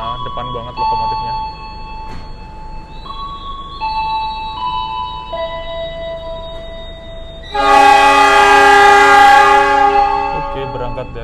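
Jayabaya Eksekutif train horn sounding loudly as it departs Cirebon station, a long, rich multi-tone blast near the end, after quieter rumbling and someone talking.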